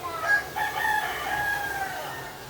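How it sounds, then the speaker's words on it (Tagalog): A rooster crows in a rural yard, one drawn-out call heard at moderate distance against faint background noise. "Ayan, yung manok."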